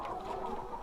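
Chickens on a poultry farm cluck in a short, close burst, several overlapping low calls with no voices.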